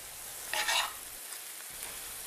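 Onion fries in a pan on a stove until lightly browned, making a steady, soft sizzling hiss with one brief burst of utensil scraping near the start.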